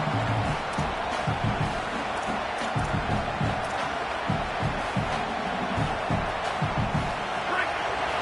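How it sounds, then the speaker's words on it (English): Stadium crowd in the College Football 27 video game roars steadily as a continuous wash of distant cheering and chanting, with a commentator's voice talking over it throughout. "This crowd trying to make life miserable for this offense."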